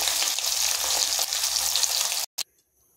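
Hilsa fish frying in hot oil in a pan gives a steady, loud sizzle that runs for about two seconds, then cuts off abruptly, followed by one brief crackle and quiet.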